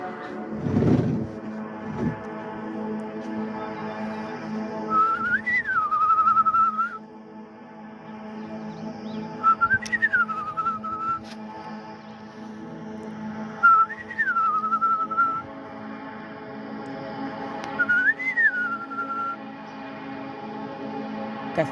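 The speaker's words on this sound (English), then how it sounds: "Now we're gonna whistle." A person whistles outdoors to the birds on a morning, a few short rising-and-falling tones repeated at intervals of about four seconds, clear and close over a steady background hum.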